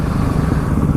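A Yamaha R1 motorcycle's exhaust rumbling loud and close, a steady throbbing engine drone with no voices.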